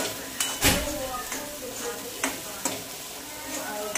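Masala for khar vang is stirred in a pan, a close sizzle punctuated by scraping knocks of a spoon every half second or so, with a low voice briefly underneath.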